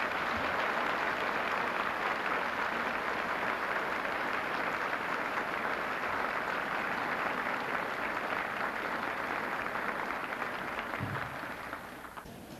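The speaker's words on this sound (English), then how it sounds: "Give them a round of applause." Sustained applause from a large banquet audience at a 1987 Air Weather Service commanders' call evening event, dense and steady for about twelve seconds before tapering off at the end.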